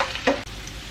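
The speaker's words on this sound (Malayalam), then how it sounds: "നല്ല നമുക്കിതൊന്ന് മൊരിച്ച് വറുത്തെടുക്കണം" Fish pieces fry crisp in hot oil in a pan for Kerala-style fish pickle, a brief close sizzle with a quick stirring scrape.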